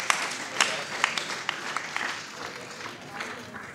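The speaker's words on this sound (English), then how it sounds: "Can we have a round of applause for these mighty people?" An audience at a youth church talk claps in a round of applause, a dense patter of hands with a voice talking over it.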